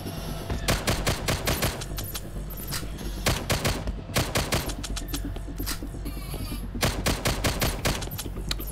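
Rapid bursts of gunfire from a VR shooter game called Outlier, loud and close, coming in repeated volleys with short gaps between them and no talk over them.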